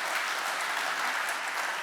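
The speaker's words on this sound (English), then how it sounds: "you can clap to that one." A conference audience breaks into applause at a speech, a dense, even burst of clapping heard throughout the brief moment, moderately loud and without talk.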